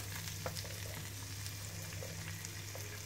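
Green chilies and onions sautéing in a pan for dosa batter, a faint even sizzle with a few light stirring taps over a low steady hum, no one talking.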